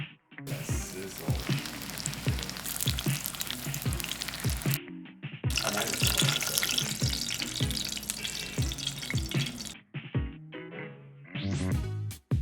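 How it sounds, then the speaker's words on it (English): Tofu fries in a generous amount of oil, sending up a loud, dense crackling sizzle that runs in two long bursts with a short gap between, followed by quieter clatter. "Sizzle."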